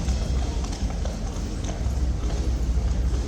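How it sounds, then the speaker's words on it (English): A horse on guard duty clip-clops steadily on hard ground, hooves striking in an even, close rhythm under continuous outdoor crowd noise and a murmur of voices. "this horse can't decide if he wants to work or not"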